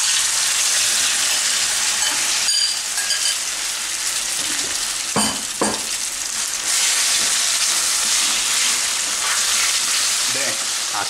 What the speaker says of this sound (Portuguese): fritar a nossa carne aqui